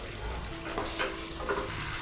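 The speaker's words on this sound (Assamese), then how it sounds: "আৰু ভালদৰে লৰাই ভাজি লওঁ" Cut potatoes stir-frying with chicken in a curd-based Assamese chicken curry in a pan, a steady close sizzle and crackle with a few louder stirring scrapes near the middle and end.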